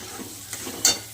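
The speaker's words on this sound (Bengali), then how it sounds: "কত সুন্দর করে মশলাটা কষানো হচ্ছে" Spice paste frying in oil in a pan for a Bengali fish kalia, a soft steady sizzle with a quiet stirring scrape and one brighter crackle near the end, no voices.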